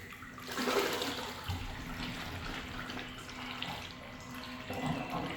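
A WYBOT C1 Pro robotic pool cleaner climbs the pool wall and rises out of the water, making a continuous close churning and splashing wash with a steady pump-like whoosh and no voices.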